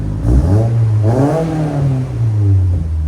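A 2024 Subaru WRX with the 2.4L turbo engine and an Aeroflow Dynamics cat-back exhaust revs hard twice in quick succession, the engine note climbing and falling close by before settling into a steady loud drone.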